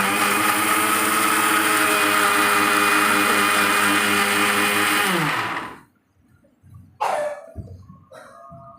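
A kitchen mixer grinder whirs loudly and steadily while grinding curry leaf powder, then winds down and stops, followed by a few clattering knocks.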